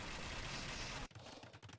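Cannons fire in a video game battle, a dense roaring barrage of blasts that fills the first second and then gives way to scattered, lighter bursts and crackles.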